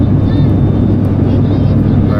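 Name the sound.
airplane landing, cabin noise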